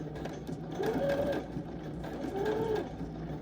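A sewing machine stitches slowly through denim along a traced curve, a steady close mechanical whir that runs continuously with a faint squeak rising and falling twice.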